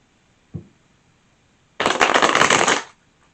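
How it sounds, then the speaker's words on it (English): Tarot cards are shuffled once in a quick riffle that lasts about a second, preceded by a single soft tap, close up and with no talking. "Let me give it one more shuffle."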